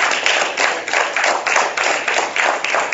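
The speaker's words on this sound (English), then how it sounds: "So I actually wanted to give him another round of applause." An audience at a conference claps for a speaker, with close, fairly loud applause pulsing in uneven waves of hand claps that carry on steadily.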